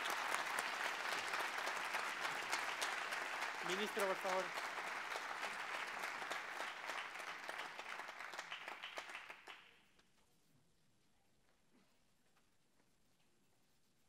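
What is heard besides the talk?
audience applause after a debate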